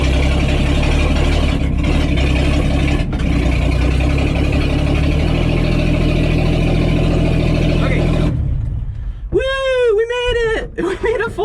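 A loud 1957 Ford F100 truck engine runs with a steady, rumbling drone for about eight seconds, then cuts off, leaving quieter sounds with chirping tones.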